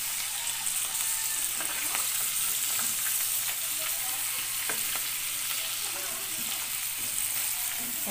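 Dried fish (tuyo) fries in hot oil with a dense, steady sizzle and crackle that runs unbroken throughout, close and fairly loud.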